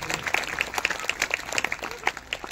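A church congregation at a Sunday meeting claps loudly for the Lord, with many sharp, uneven hand claps close by and some voices mixed in.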